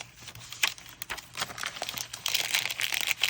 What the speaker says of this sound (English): Some of the faux rice paper.